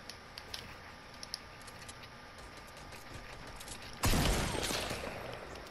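Sudden loud burst of video game gunfire erupts near the end, a dense rapid volley following a stretch of quiet background with faint scattered clicks.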